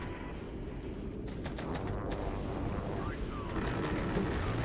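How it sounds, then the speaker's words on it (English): Attack helicopters called in for backup during a battle in the strategy game Regiments, a dense, steady rotor rumble that fills the scene, mixed with distant gunfire and explosions and faint high whistles. "I'm going to call in some helicopters for backup."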